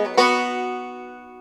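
A single banjo pluck or brief lick, played lower on the neck: a bright attack followed by a ringing, slowly decaying tone, close and alone without talk.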